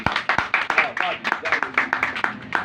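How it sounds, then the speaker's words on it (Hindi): An audience bursts into loud, fast clapping for a sister at a sermon gathering. The claps are close, dense and irregular, and voices carry on over them throughout. "सिस्टर के लिए एक बार जोरदार ताली"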